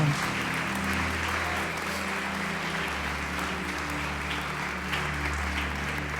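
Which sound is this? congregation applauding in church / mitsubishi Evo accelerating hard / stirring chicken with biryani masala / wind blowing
congregation applauding in church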